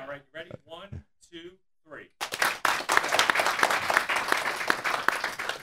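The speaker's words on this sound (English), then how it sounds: "We're going to clap right now, right?" An audience claps together on a counted cue after a few spoken words, a dense burst of applause that starts abruptly and holds steady and fairly loud for several seconds.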